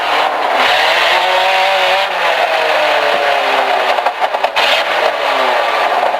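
A loud rally car engine with its exhaust missing revs and shifts pitch, rising and falling as it accelerates, with sputtering pops near the end.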